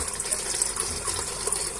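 Water pours steadily out of the tap outlet of a cheap homemade koi pond filter, making a continuous hissing gush at close range with no break and no talking.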